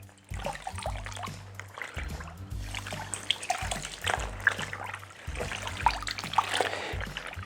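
White cotton T-shirt being soaked in a basin of water, with repeated close splashing and trickling as the fabric is pushed under and moved about.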